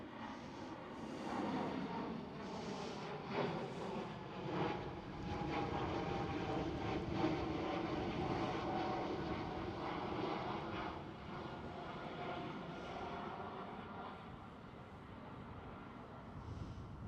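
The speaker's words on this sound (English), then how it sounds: "There's KLM Cityhopper E195E2." A KLM Cityhopper Embraer E195-E2 jet at Schiphol airport roars steadily for a long stretch, a loud broadband engine rush with a faint whine, no talking.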